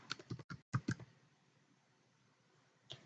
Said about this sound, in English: in the search bar, type performance